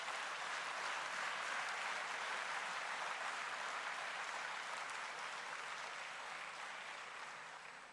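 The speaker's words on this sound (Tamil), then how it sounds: "ஸோ இன்னொரு முறை அவரை கரகோஷத்தோட வரவேற்போம்." Audience applause welcoming a guest at a special discussion event in Chennai: a sustained, even roar of clapping from a sizable crowd, heard at some distance and fading gradually over the final seconds.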